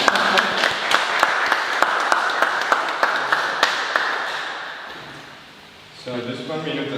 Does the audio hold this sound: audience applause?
yes